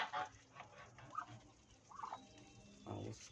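Geese honk at a bird market, several short nasal calls spread across the clip at moderate loudness against a busy low background.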